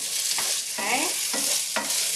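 Diced potato frying with garlic in a pan, a steady close sizzle broken by a few stirring scrapes at a regular pace.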